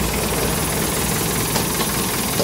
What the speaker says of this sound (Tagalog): 5 minutes na tatakbuhin kasi nilagyan natin ng flashing, motor flash para malinis yung loob ng makina